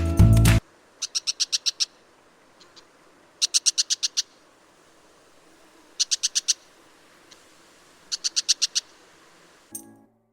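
A brown shrike gives four bursts of rapid, sharp, high chattering calls, each a quick run of about six notes, separated by pauses in a quiet outdoor setting.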